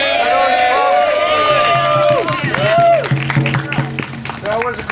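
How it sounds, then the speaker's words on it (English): A crowd at a rally honoring a group of named people cheers, whoops and claps loudly, with raised shouting voices rising and falling over steady applause throughout. "Could we get a round of applause or some noise for those folks?"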